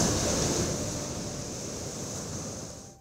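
Ocean waves surge against the shore at a Baywalk under construction in Dagupan City, a steady loud wash of surf with wind noise, fading slightly toward the end.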